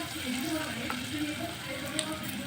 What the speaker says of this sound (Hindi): तो इसमें हम पकौड़े डाल के फ्राई करेंगे।